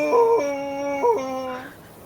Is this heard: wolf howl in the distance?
yes